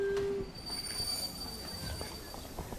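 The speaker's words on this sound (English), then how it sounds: "Ooh, that's a shiny train." Train in The 39 Steps video game rolling along with rumbling wheels, squealing rails and a brief high tone at the start, steady and fairly close, with no talking.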